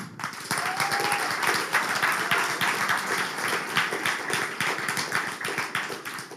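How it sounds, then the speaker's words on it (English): An audience at a climate hackathon awards ceremony breaks into applause, a full room of hands clapping steadily and loudly for several seconds with a brief whistle-like tone early on. "A round of applause for that."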